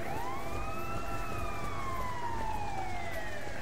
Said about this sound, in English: God, dude, those fucking sirens.